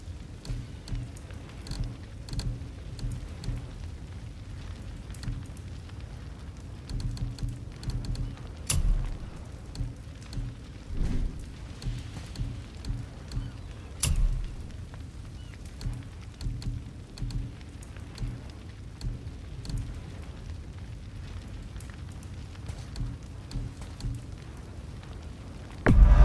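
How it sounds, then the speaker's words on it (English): Steady rain pattering on surfaces in the God of War video game, with occasional low thunder rumbles and louder bursts, continuing evenly throughout with no speech. "Best of luck with all the rain."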